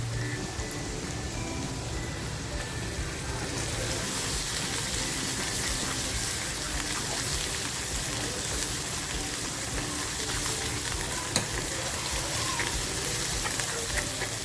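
Ground masala hitting hot oil for a spicy mutton kharda, a loud continuous frying sizzle that swells as the spices go in and then holds steady and close for the rest of the stretch.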